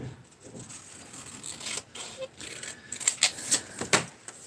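Scissors cut a sheet of paper in half for a handmade image book, a run of crisp, close snips clustering near the end against a quiet room.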